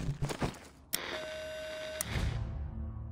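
A radio in The Walking Dead: Saints & Sinners, played in VR, gives a single steady electronic beep tone lasting about a second, framed by clicks and low game ambience.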